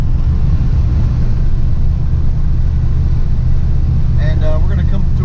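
A Ford Foxbody Mustang engine idles with the air conditioner running, a loud, steady low rumble heard from inside the car, with a brief voice near the end.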